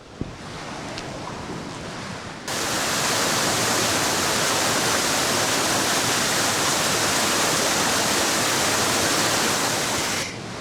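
Steady rush of creek water flowing at Paşa Deresi in Çameli, close and constant, getting louder after a couple of seconds with no voices.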